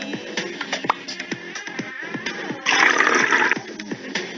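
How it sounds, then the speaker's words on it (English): Water pours into a jug, filling it with a steady rushing gush for about a second near the middle, surrounded by small splashes and clinks of the jug. "Fill it with water."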